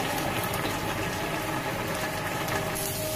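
Eggs frying in a pan with chili sauce and salt, a loud continuous bubbling crackle that holds steady throughout with no pauses.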